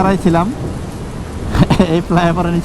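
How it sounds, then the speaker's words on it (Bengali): Heavy rain pours down around a flyover, heard from beneath it as a dense continuous hiss with louder gusts, while a voice comes and goes over the downpour. "বৃষ্টি রে বৃষ্টি আয়না জোরে"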